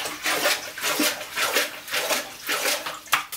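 Water sloshes and gurgles in bursts as it is pushed out of a toilet bowl during a deep clean, a series of splashy surges close by with no talking.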